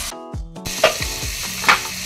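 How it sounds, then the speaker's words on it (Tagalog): Liver sizzles in a pan with garlic, onion and tomato, a close, steady fry broken by a few sharp scraping stirs from a utensil. "Ginisa-gisa ko muna sa bawang sibuyas kamatis. At ito, hinulog ko yung ating sahog na liver."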